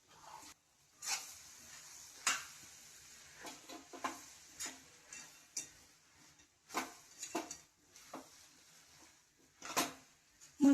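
Soybean keema being sautéed and stirred in a pan, with soft sizzling under intermittent scraping and clinking of a spoon against the pan, alone without talk.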